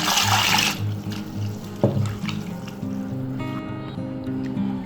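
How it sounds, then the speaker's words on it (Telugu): Water is poured into hand-mashed moong dal for a Pesarapappu charu soup, a splashing gurgling stream starting strong and then trickling on unevenly with small clatters of the pot, close and clear without voices. "ఇలా చేతితో పిసికి చేస్తే ఇప్పుడు మనం వాటర్ పోసేసుకుందాం."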